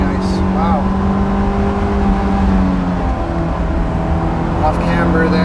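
A Honda S2000 engine revs high, around 7,000 RPM in fourth gear, a loud sustained drone heard from inside the car while a voice talks over it.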